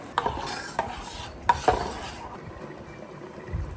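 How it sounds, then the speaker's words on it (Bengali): A spoon stirs Amul milk into hot water, giving soft swirling scrapes with a few light clinks against the vessel, fairly quiet and close, fading out toward the end. "আমুল দুধটা গুলে নেব"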